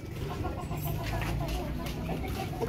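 Breeding hens and roosters cluck softly in a small pen, a busy, fairly quiet chatter of short overlapping clucks that continues throughout.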